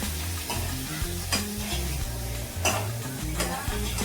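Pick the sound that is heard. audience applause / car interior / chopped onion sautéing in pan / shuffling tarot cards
chopped onion sautéing in pan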